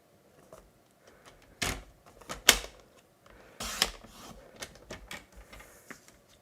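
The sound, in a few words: cutting stacked card panels into strips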